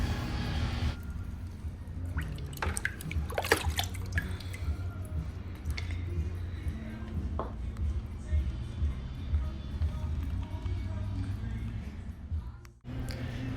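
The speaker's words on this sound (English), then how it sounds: "As I pour it over it, you can hear bubbling, and it will start to suck it in." Water poured over dry pieces of used clay crackles and bubbles as it soaks in, a scatter of small sharp fizzes and drips that fade after the first few seconds, with a speaking voice in the background.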